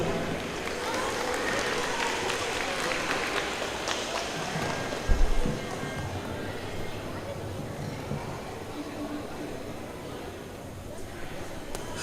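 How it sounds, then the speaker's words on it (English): A school fine arts audience claps for beginner students, a steady wash of applause filling the room throughout, with a brief low thump partway through. "Let's clap it up for them."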